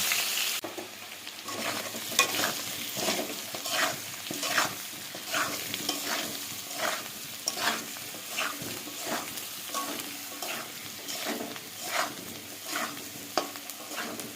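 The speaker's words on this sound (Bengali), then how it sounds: "আলুটা একটু ভেজে নেব।" Potatoes frying in oil for an alu dum curry, a steady close sizzle broken by regular scraping stirs roughly every second throughout, with no talk.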